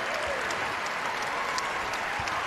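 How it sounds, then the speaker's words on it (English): Basketball crowd at UConn's final home game against Providence stands and applauds the seniors, a sustained, even roar of clapping heard from across an arena. "they stand and applaud one final time for UConn seniors"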